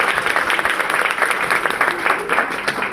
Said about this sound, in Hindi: एक बार आप सबके लिए जोरदार तालियां